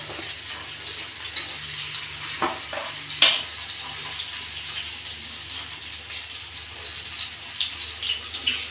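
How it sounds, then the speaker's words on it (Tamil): Fish frying in a pan gives a soft continuous sizzle, broken by a few sharp clicks and clatters as pieces are handled, close and moderately quiet, with no one speaking. "இந்த மாதிரி போட்டு நல்லா ஃப்ரை பண்ணி எடுத்துக்கோங்க"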